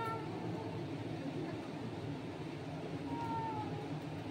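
A cat gives a faint, brief meow partway through, heard over a steady low background rumble.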